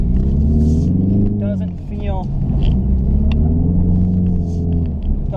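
A 2021 Ford Mustang EcoBoost with its turbocharged engine pulling hard on a driving run, a loud, steady, close engine rumble rising in pitch, with someone talking over it throughout.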